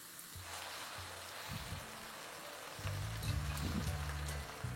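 Yogurt spice mix poured onto frying onions in a pan for a prawn bhuna, giving a soft crackling sizzle like light rain that swells louder as the wet mixture hits the hot oil, with faint low scraping.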